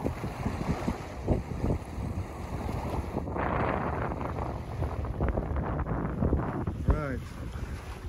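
Steady wind roars over a solo sailboat on a long nonstop passage, a dense rushing noise with microphone buffeting and water swash, intermittent low speech-like sounds mixed in throughout.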